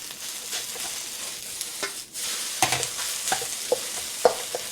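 Spam fried rice with egg is stir-fried in a new carbon steel wok with a little oil, giving a steady sizzle broken by scraping strokes and sharp spatula taps against the metal. No one speaks.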